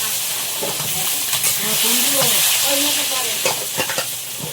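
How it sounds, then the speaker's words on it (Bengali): Salted, turmeric-coated eggplant slices frying in hot oil, a loud close sizzle with spattering crackles and a few utensil clinks, steady throughout without talk. "বেগুন তো ভাজা হচ্ছে"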